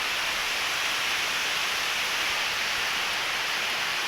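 Heavy typhoon rain pours down steadily in Bicol, a dense, even hiss with no breaks and no voices.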